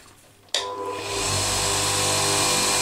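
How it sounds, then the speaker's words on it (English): A powered sharpener switches on abruptly and whines steadily as an old knife edge is ground against it, the motor noise loud and close with no speech. "we'll just sharpen this edge up"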